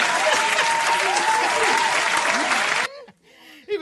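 Loud, dense audience clapping fills nearly three seconds, then stops abruptly, leaving a brief quiet tail with faint sounds.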